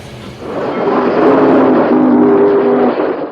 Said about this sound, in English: San Francisco Chief Train Number 1 heads west toward Richmond